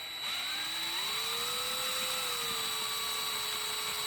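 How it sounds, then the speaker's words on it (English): Sandpaper wrapped around a Daiwa Gold Series GS 10 reel gear sleeve spinning in a chuck, making a steady whirring hum with a rising and gliding motor tone, quiet and continuous. "we're going to gently sand this gear sleeve"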